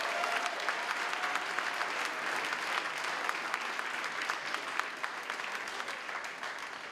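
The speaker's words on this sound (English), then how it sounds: "Can we have a massive round of applause for Farming Karma?" Dense, steady applause from the audience at an annual civic and community awards ceremony, loud and sustained for several seconds with many hands clapping together.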